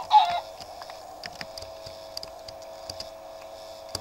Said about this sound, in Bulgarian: Кокошка.